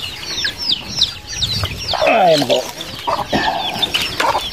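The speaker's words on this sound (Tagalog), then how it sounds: "samahan nyo ako magpakain ng mga native kong manok at mga alaga kong pato" Native chickens at feeding time on a small farm also keeping ducks, clucking and squawking loudly and close in a busy overlapping chorus, with someone talking briefly among them.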